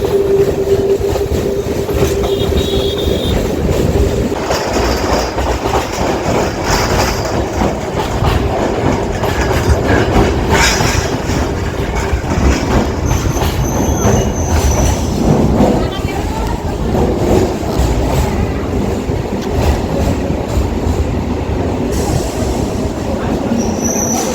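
A Naihati-Ballygunge local train runs through the Kolkata port area near Khidirpur, with continuous loud rail rumble, clickety-clack of wheels and occasional squeals over the whole stretch, while voices talk faintly in the carriage.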